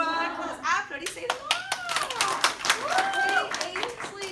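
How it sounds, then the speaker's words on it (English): A classroom of students claps after singing happy birthday, with brisk overlapping hand claps close by and children's voices chattering over the applause. "Applaudissez"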